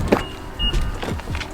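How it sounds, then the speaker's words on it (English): A 2010 Nissan 370Z unlocks on its own as the owner approaches, giving a short mechanical clunk followed by a brief electric motor whir, close and clear over a quiet outdoor background. "I walk up to the car, she unlocks on her own."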